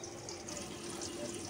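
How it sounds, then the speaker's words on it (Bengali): Water runs steadily from a tap at close range while vegetables and dried fish are washed, a continuous even splash that lasts under two seconds with no voices. "এখন ওগুলো ধুয়ে নিব ভালো করে গরম পানি দিয়ে।"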